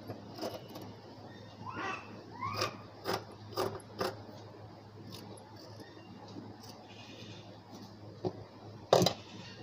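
Hand scissors cutting blouse cloth give a scatter of crisp, close snips and clicks at uneven intervals, fairly quiet over a low steady hum, with a louder snip near the end.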